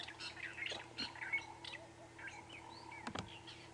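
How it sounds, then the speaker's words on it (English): A drongo calls with harsh squawks and short chirps at dawn in the African bush, faint and scattered among other distant birdsong over a quiet background hum. "You can hear the birds, that drongo calling there."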